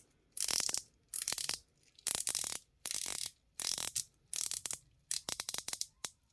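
A Tsar Bomba watch bezel is turned by hand in rapid bursts of ratcheting clicks, about eight short runs of crisp close-up clicking separated by brief pauses, with no voice.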